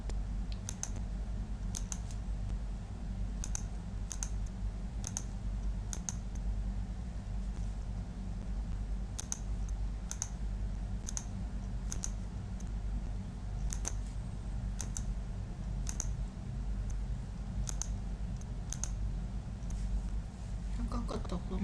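Mouse clicks while selecting items in SolidWorks CAD software, sharp single taps spaced irregularly across a steady low hum, with a person speaking throughout.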